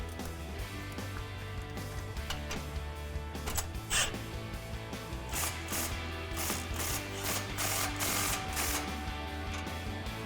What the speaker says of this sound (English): we'll tighten up that clamp again with our 16mm socket